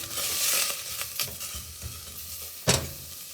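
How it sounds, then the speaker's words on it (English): Onions sautéing in a pan for a plant-based bœuf bourguignon, giving a steady close sizzle with occasional stirring scrapes and a sharp spatula knock near the end, no voices. "I love the sound, the sizzling sound."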